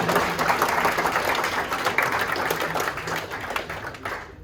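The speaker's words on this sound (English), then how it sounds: "That's worth a round of applause again" A room full of new hires applauds during a manager's introductory speech, with loud, close, dense clapping that stays strong, then thins and fades out near the end.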